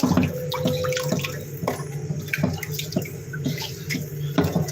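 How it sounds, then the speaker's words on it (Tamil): Chicken pieces washed under a running tap, a steady close stream of water with splashes and small knocks throughout. "சிக்கனை கழுவி எடுத்துக்கிட்டோங்க"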